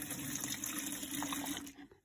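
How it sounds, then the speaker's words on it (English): Hot water pours in a steady stream into a watering can being cleaned, a continuous splashing fill that cuts off near the end, with no talk. "Pour it in this one too."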